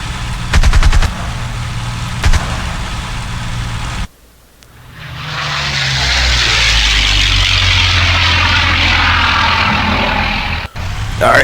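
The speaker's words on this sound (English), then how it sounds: "Alright, this is a gun." A P-40M fighter in IL-2 Tuskegee Airmen fires short machine-gun bursts early on, then a loud, steady aircraft engine roar builds and holds before a brief cutoff near the end.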